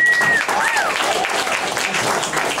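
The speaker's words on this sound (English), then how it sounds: "Y'all give yourself a round of applause." An audience at a comedy open mic claps in a short burst of applause, with a whistle rising above the crowd's clapping.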